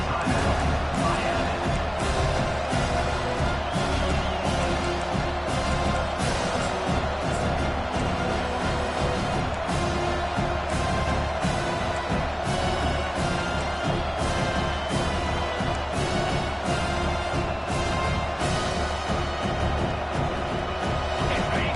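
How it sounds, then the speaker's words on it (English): Stadium crowd noise building on a 3rd down in the NCAA 25 college football video game, a dense, loud, sustained roar of many voices that fills the whole stretch without a break. "Decibels rising as the crowd gets behind this defense on 3rd down."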